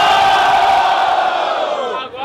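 A crowd at a Brazilian freestyle rap battle shouts and cheers in one loud, sustained roar that holds steady, then fades and dips near the end.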